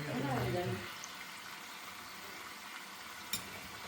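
Continuous sizzling of spring rolls deep-frying in hot oil, with a voice briefly talking at the start over the crackle.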